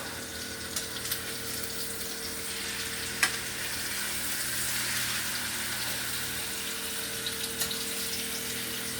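A New York strip steak fries in a pan over medium-high heat, giving a steady, dense sizzle that runs unbroken throughout, close and fairly even, with a single sharp pop partway through.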